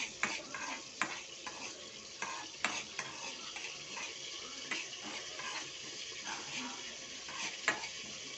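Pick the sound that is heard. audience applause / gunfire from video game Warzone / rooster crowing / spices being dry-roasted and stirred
spices being dry-roasted and stirred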